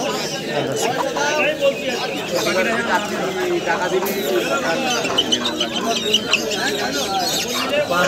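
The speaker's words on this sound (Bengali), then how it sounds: "এই হচ্ছে সিল্কি পাখি।" Silkie chickens and other birds at a crowded animal and bird market in Nadia, with clucks and bird calls mixed into dense chatter and voices talking throughout.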